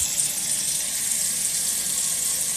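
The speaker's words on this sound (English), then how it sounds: "And now we're going to cover them with water." Warm water pours steadily into a pot of potatoes in a home kitchen, a constant close hiss of running water with no pauses.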